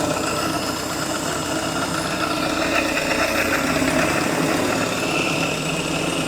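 Willys CJ2A jeep engine running at a steady, loud idle close by, its even mechanical chug continuing unbroken with no voices.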